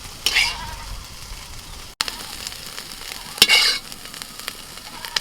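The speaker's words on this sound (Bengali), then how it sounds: "ফোড়নে দিয়ে দিচ্ছি কালো জিরে কাঁচা লঙ্কা" Nigella seeds and green chilies crackle and sizzle in hot oil for a bottle gourd greens dish, punctuated by a few sharp scrapes of a stirring spoon close by.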